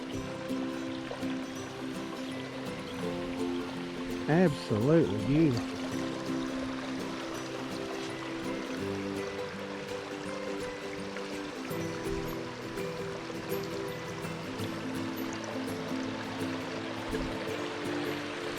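Water from a stream flowing out of Gap Cave at Cumberland Gap National Park makes a steady, broad rush throughout, with someone speaking briefly over it partway through.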